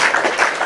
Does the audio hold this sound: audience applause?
yes